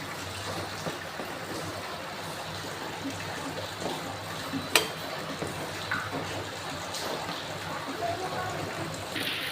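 Spinach boiling in a pot of water with chilli and a little salt, giving a steady, close bubbling and simmering hiss with a few brief clinks.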